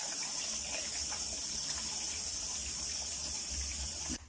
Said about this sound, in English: we're going to wash the quinoa